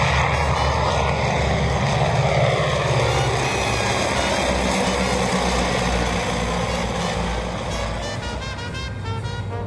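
Propeller engines of a Ford Tri-Motor airplane giving rides, a loud steady drone with a deep rumble and a rising buzz, close and continuous with no talk.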